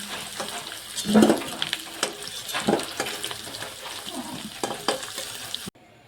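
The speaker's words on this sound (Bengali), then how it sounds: "তেল গরম হয়ে গেছে, ফোড়নে দিয়ে দিচ্ছি গোটা লঙ্কা, জিরে ফোড়ন, পাঁচ ফোড়ন, গোটা গরম মশলা" Whole spices tempering in hot oil, among them whole chillies, cumin, five-spice mix and whole garam masala, crackling and sizzling up close with several sharp pops and stirring noises throughout.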